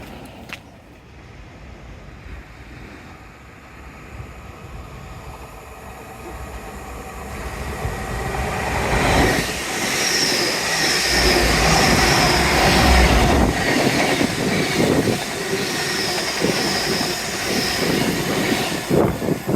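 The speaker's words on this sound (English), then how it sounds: "might be a train coming through later" A rumbling train passes, swelling from a low drone to a loud roar with screeching high tones, then lingering as it moves along.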